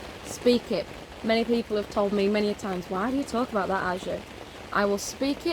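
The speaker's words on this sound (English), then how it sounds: "The rain is so therapeutic." Steady rain patters as a constant background hiss beneath close, continuous talking that runs through the whole stretch.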